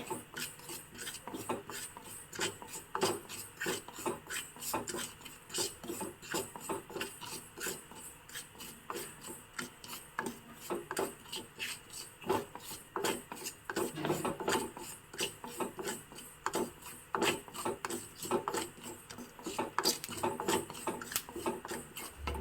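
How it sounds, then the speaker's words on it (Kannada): Whole spices dry-roasted in a pan for a Mangalore Brahmin-style masala, giving a steady scraping, rasping rub of a spatula stirring the seeds, with continuous gritty texture and occasional louder scrapes throughout, no talking. "ಚೆನ್ನಾಗಿ ಕೆಂಪಗೆ ಹುರ್ಕೋಬೇಕು ಕಾಳುಗಳನ್ನ ಪ್ರತಿಯೊಂದು ಮಸಾಲ ಪದಾರ್ಥವನ್ನು ಆಗಿ ಹುರಿಬೇಕಾಗತ್ತೆ"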